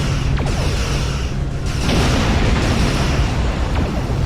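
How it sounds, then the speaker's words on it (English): Starship explosions in the space combat game Star Trek Online, loud booming blasts with sharp bursts and dense rumbling that crowd together without pause, overlapping one another at close range. "Starship explosions, no matter how small or big, will do some damage."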